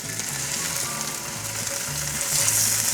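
Tofu hits hot cooking oil in a pan beside softened onions and sizzles loudly and steadily up close, a dense continuous frying hiss that swells slightly toward the end.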